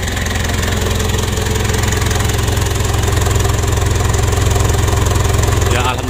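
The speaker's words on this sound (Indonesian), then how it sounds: "kita panasi dulu bosku untuk mesin Pajero ini" A Mitsubishi Pajero engine idles steadily while warming up, with a constant low rumble and mechanical hum that run unbroken for several seconds.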